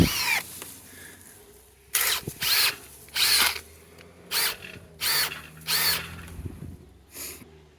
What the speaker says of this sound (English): I'm not very happy with my Makita drill